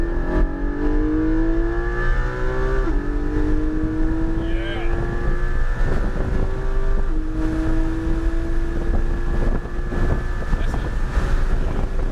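A race car on the Portland International Speedway road course accelerates hard at full throttle, its engine note climbing steadily with two upshifts, loud and continuous with wind buffeting, while a voice talks briefly over it.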